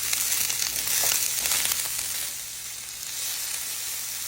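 An oven-browned beef roast sizzles loudly in a hot skillet, a dense crackling hiss that is a little busier at first and then settles into a steady fry, with no voices.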